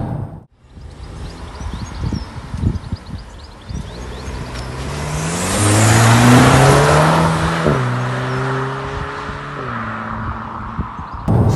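Car accelerating hard through a steering turn on a test track, fitted with all-season tyres; engine note climbs in rising harmonic sweeps with gear changes, loud and close, settling into a steady higher drone.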